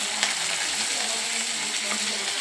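Tomato pieces frying in a pan for palak paneer, a dense continuous sizzle with small crackles and pops, close and steady throughout.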